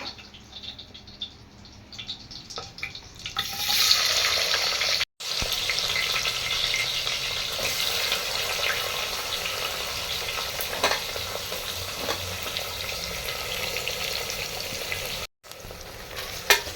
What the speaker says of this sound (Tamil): வெங்காயம் நல்லா பொன்னிறமாக வதங்கி வரட்டும்